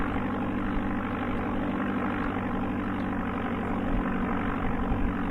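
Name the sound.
aircraft engine sound in Amiga video game Flight Simulator II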